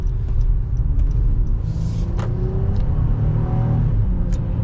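A 2022 Honda Pilot EX-L with a 3.5-liter V6 accelerates in automatic and short shifts, giving a steady low engine rumble from inside the cabin with a faint rise in pitch and no speech.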